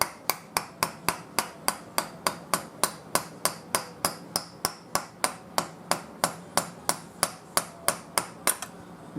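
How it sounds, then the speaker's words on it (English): Rapid, evenly spaced metallic hammer blows ring out close by, driving a lead slug down a revolver barrel, around thirty strikes in a steady rhythm, their tone shifting slightly as it goes. "You can hear the harmonics change as you hammer."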